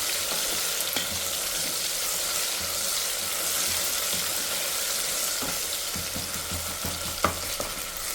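Tomatoes fry in a pan for radish sambar, giving a steady, close sizzle with occasional stirring clicks and no voices.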